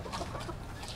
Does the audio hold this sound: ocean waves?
no